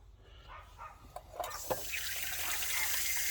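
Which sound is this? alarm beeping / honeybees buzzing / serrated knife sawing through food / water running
water running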